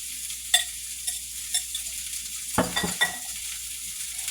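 Ground beef casserole mixture being stirred in a pan, with soft intermittent scraping and a few light clinks of a utensil against the pan, quiet and close.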